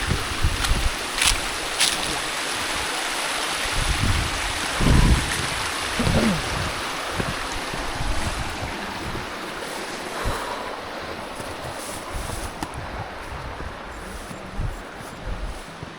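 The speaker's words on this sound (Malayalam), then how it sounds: "എന്താണ് വെള്ളച്ചാട്ടോ? വീണ്ടും വാട്ടർ ക്രോസിങ്." A forest stream rushes loudly and steadily at a water crossing near a waterfall in Idathattu, Idukki, a dense, continuous roar with occasional splashes and no voices.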